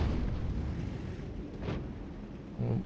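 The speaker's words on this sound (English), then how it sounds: "we need to just keep the gun firing if we can" A tank cannon firing in the World of Tanks video game gives a muffled, booming shot over steady low engine rumble, with a second heavy burst near the end.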